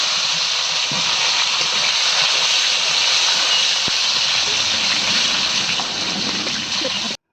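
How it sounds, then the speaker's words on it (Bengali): Pointed gourd (potol) fries in hot oil, a loud, steady sizzling hiss with faint crackles throughout, cutting off abruptly at the end. "এখন পটলটা ভেজে নেব"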